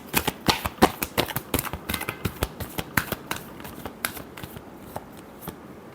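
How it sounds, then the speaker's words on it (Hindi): Tarot cards being shuffled, a rapid run of crisp riffling snaps and flutters at close range that thins toward the end, with no talking. "Last shuffle."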